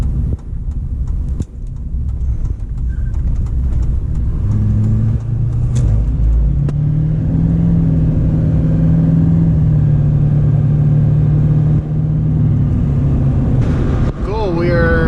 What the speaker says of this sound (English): And get on the freeway, get it up to speed.